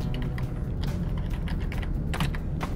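Typing on a computer keyboard while adding a text layer in GIMP: a steady run of soft, close key clicks with no talk.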